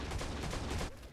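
Rapid gunfire from the T3 Arena shooter game, a dense burst of loud overlapping shots for about a second before dropping off to a quieter tail.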